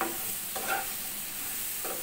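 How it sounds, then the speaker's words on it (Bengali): Eggplant sautéing with spices for a hilsa fish curry, a soft steady sizzle in the pan broken by a few scraping stirs of a spoon, moderately quiet and close. "এখন আমি বেগুনটা ভালো করে কষিয়ে নেব"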